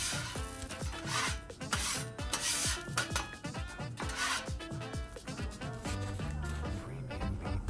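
A metal scraper works grease across a Blackstone 22-inch griddle after cooking bacon and eggs, repeated rough rasping strokes in an uneven back-and-forth rhythm, close and fairly loud.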